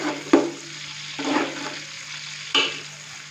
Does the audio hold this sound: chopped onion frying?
yes